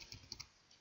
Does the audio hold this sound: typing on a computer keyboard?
yes